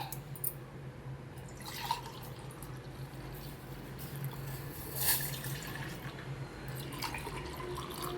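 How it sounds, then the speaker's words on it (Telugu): Two glasses of milk poured into a pot on the stove for a milk drink, a steady liquid splash and trickle running throughout at close range, with no talk. "2 గ్లాసులు పాలు పోసుకోవాలి."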